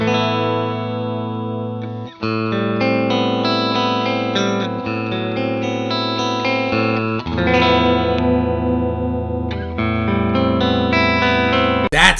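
Sustained chords and riffs on a Fender Jazzmaster electric guitar through a Hizoo effects pedal, thick and saturated with shimmering modulation, playing continuously at steady loudness with a brief dip near the start.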